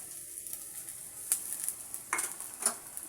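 Ginger and garlic paste being mixed into fried onions for a Bengali mutton curry, a quiet sizzle with a few brief stirring scrapes and light clinks of a spoon on the pan.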